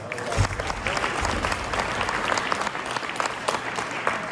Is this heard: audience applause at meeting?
yes